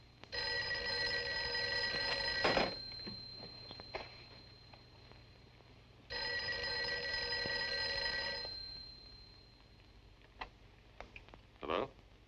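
An old 1940s telephone bell rings twice in long sustained trills of about two seconds each with a pause between, fairly loud in a quiet room, with small clicks and knocks after each ring.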